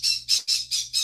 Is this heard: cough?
no